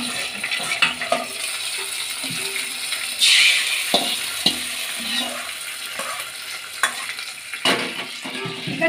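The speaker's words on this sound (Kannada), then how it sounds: "ಈಗ ಮೊಸರು ಬಜ್ಜಿಗೆ ಒಗ್ಗರಣೆ ಕೊಟ್ಕೊಳ್ಳೋಣ." Spices for a tempering crackle in hot oil for a smoked capsicum curd bajji, a continuous close sizzle dotted with sharp pops and spits and a brief louder burst partway through.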